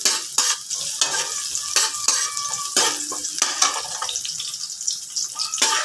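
Garlic sautés in a hot pan for ginisang cauliflower, a steady sizzle broken by frequent clattering stirs of a utensil against the pan, close and fairly loud with no voices.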